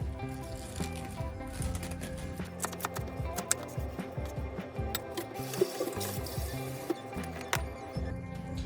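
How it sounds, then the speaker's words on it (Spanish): Water runs and fills steadily as lettuce is soaked for washing in a kitchen, a continuous rushing stream with small clicks and splashes throughout. "Y la vamos a remojar en agua."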